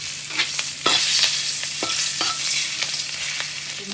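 Crushed garlic stir-fries in butter with a constant close sizzle, broken by repeated sharp clinks and scrapes as a spatula stirs the pan, no one speaking.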